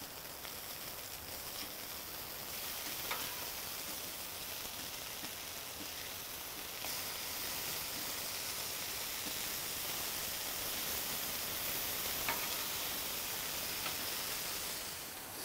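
Burger patties frying in a pan, a steady broadband sizzle and crackle holding at an even level throughout with no talking, a few sharper pops standing out now and then.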